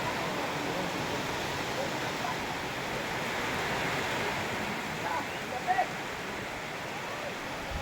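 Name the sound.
heavy rain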